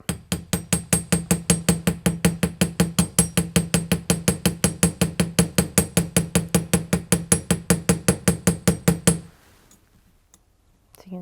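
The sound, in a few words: hammering a copper piece to texture it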